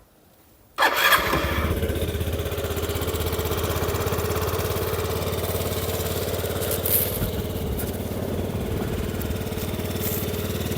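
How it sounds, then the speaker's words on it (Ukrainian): A 2018 Yamaha moped engine starts up abruptly and settles into a steady, loud idling putter that runs on without pause. "Двигун працює без жодних нарікань"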